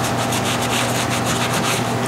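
A cloth wiping dark wax back on painted thrifted furniture, giving a close, continuous rubbing swish with quick back-and-forth pulses and no talk.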